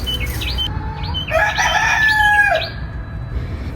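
A rooster crows clearly and close by among chickens on a countryside farm in the USA, with soft clucks and chirps around it and no talk.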